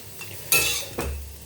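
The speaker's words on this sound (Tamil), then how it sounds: "இப்போ நம்ம கிண்ணத்தில் மாற்றி எடுத்துக்குவோம்" Potato pepper fry being scooped from a pan into a bowl, heard as two quick clinks of a spoon scraping against metal cookware, close, with a faint sizzle underneath and no speech.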